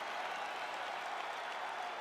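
Steady applause and crowd noise after a UFC-style fight goes the full 25 minutes, a dense continuous wash of clapping and cheering filling the arena throughout, with no clear voice on top.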